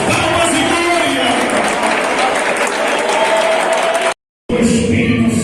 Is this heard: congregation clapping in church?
yes